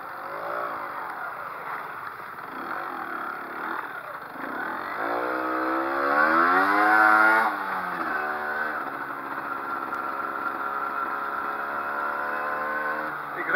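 A moped rides through traffic around Hengelo, its small engine buzzing steadily close by, revving up to a higher whine midway before dropping back to a steady cruise, with other traffic noise beneath.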